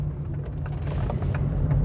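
A 1994 Proton Iswara Aeroback is driving, heard as a steady, low engine and road rumble from inside the car, continuous and moderately loud.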